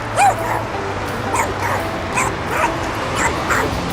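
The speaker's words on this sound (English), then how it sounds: "Guess someone just left their dog there while they went shopping." A dog left alone outside a shop yips and whimpers repeatedly in short bursts, fairly near, over steady outdoor street background.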